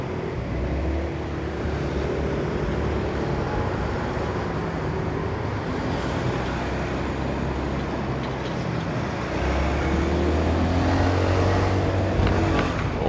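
A Honda Forza 350 scooter pulls away on a main road, its engine a steady low drone that rises slightly while accelerating amid continuous road and traffic noise, with no talking.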